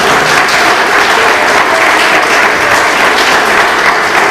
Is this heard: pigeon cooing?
no